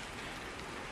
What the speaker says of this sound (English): It's rainy over here